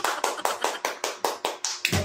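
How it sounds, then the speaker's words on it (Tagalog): A small child claps hands about ten times in a steady, fairly quick rhythm, each clap crisp and close, with the last one blending into a brief voice. "Palakpak mo."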